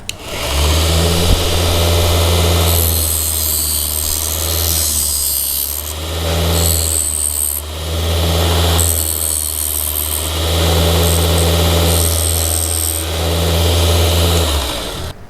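A mini DIY 24V 96W belt sander grinds a broken screwdriver tip. Its loud, steady motor hum is broken by repeated bursts of harsh, hissing grinding as the tip touches the belt, with no talking.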